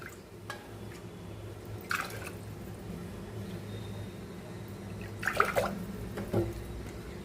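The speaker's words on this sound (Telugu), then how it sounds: "సేమ్ కప్పుతో త్రీ కప్స్ వాటర్ యాడ్ చేసుకోండి" Water poured from a cup into toor dal in a pressure cooker, a few short splashing bursts over a low steady background hum, close and moderately quiet.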